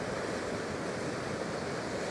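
Ocean waves crashing against jagged rocks, a dense, steady roar of surf and spray with wind noise mixed in, loud and unbroken, with no voices.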